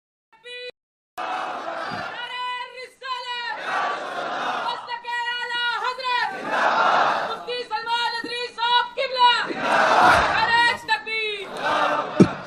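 A crowd at a night religious gathering for Shab-e-Miraj raises loud, rhythmic slogans in repeated bursts, voices swelling together in call-and-response waves that fill the space.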